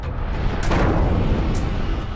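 A colossal explosion effect for colliding black holes in a space documentary: a loud, sustained rumbling roar that swells briefly and fills the whole clip with deep, dense noise.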